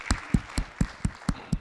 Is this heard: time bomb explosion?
no